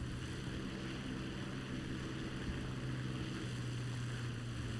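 Propeller aircraft engines in War Thunder, a dense group of planes flying together, producing a steady, continuous drone with a low engine hum throughout and no talk.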